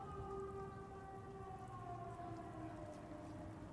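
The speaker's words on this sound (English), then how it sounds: "let me wait for the siren to come back" A faint, sustained wailing siren from the video game The Sinking City 2 drones with steady, slowly gliding tones over a soft hiss of rain-like noise, with no talking.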